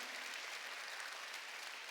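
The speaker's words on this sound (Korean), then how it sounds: "깨닫는 사람만 박수" A Korean church congregation at Sunday worship claps together in a brief, dense burst of applause, many hands at once, steady and fairly loud throughout with no voice above it.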